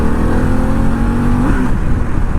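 A 2021 Harley-Davidson Pan America motorcycle engine revs hard at high RPM, a loud steady roar with a rising tone near the middle before easing off, heard up close without talk.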